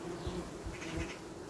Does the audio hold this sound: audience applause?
no